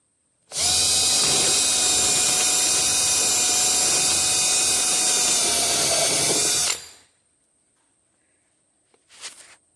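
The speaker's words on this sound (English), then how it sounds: "Using this metal drill bit, drills through that plastic like butter." A metal drill bit bores through a plastic barrel being made into a bear bait station: a loud, steady power-drill whine for about six seconds that stops abruptly, followed by quiet and a couple of faint knocks.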